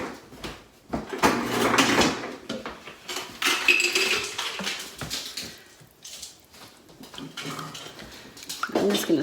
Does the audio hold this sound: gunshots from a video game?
no